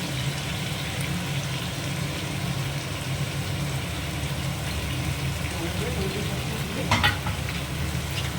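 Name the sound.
stirring tomato sauce into frying chili chicken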